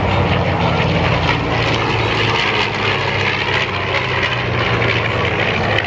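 Twin-engine World War II fighter bomber with two 1,700-horsepower engines flying at an airshow, a loud continuous propeller engine roar with steady rumble throughout, no talk.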